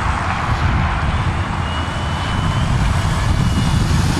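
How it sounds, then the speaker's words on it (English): Engine of a pink Cub RC model airplane taxiing on the ground, a steady, fairly loud buzzing drone with a constant pitch and no talk over it. "I'm gonna do a little bit of a taxiing around just to make sure this is okay"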